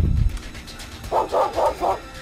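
Four evenly spaced, punchy barks from a dog in the video game The Visitor Returns ring out loud and near, following a brief low thump, with no voices.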